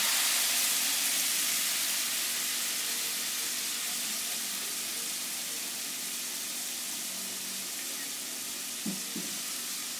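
Spice paste for Pakistani chicken tikka hitting a hot pan, a steady broad sizzle and hiss that holds for the whole stretch at moderate level, with a couple of small clatters near the end.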